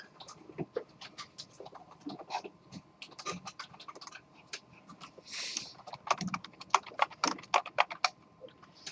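Typing on a computer keyboard, fast irregular clacking keystrokes close by in bursts with short pauses, a few louder key taps and a brief rustle partway through, no speech.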